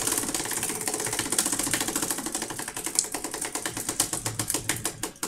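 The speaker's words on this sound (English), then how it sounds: "So let's spin the wheel" A prize wheel spins at a hockey card box break, its pointer ticking off the pegs in a fast, steady stream of sharp clicks that gradually slow and spread apart, loud and close with no talk.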